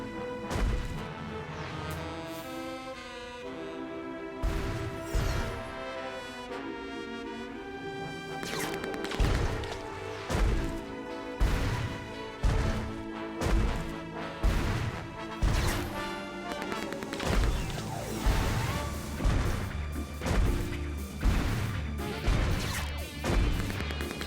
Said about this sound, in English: pointlessly smashing everything in sight